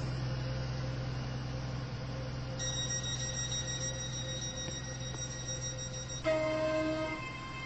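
Steady rumble of a four-coach train running through a station in a railway video game, with long sustained tones and a brighter chime-like tone near the end, loud and continuous with no talking.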